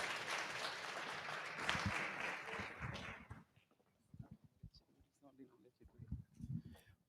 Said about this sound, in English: Let's give another round of applause for Neil Kroom, everybody.